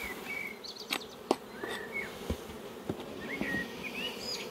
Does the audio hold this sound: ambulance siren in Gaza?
no